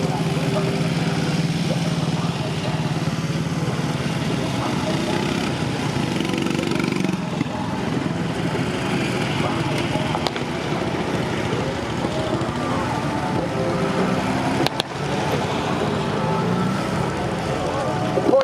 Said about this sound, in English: Trucks and jeeps rolling around for you.